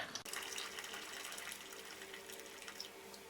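Water gushing from a tap into a pot holding a ham cooker full of chicken thigh meat, a steady, close splashing stream lasting a few seconds with no talk.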